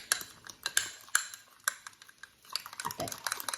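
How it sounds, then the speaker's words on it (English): Spaghetti meat sauce is stirred in a pan, with close sharp clicks and scrapes of a utensil against the pan in an irregular rhythm, followed by softer rustling scraping. "I'm just going to stir this up because I don't want this to clump up in my spaghetti sauce."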